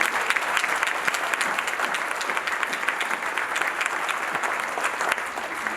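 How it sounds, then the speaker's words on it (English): Sustained, dense applause from a banquet audience at a 100th annual membership meeting, steady and fairly loud throughout with no voices rising above it. "I want a special round of applause for Bonnie for what she does for our community"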